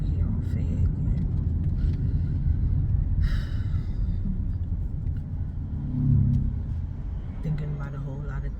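A car cruises along a city street, giving a low, steady rumble of engine and road noise from inside the cabin, with occasional breaths and faint sighs from the driver over it.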